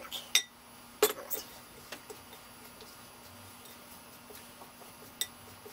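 Strawberry shortcake dough being stirred into flour in a bowl: a few sharp clinks and taps of a utensil against the bowl, spaced out and fairly faint against a quiet room.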